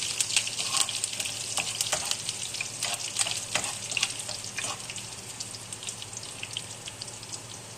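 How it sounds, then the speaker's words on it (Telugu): A tempering of dried chillies, curry leaves, coriander seeds, cumin and mustard seeds crackling in hot oil for gongura chicken curry, with dense popping and spitting that is loudest at first and eases off over several seconds. "తాలింపు రెడీ అయిపోయింది."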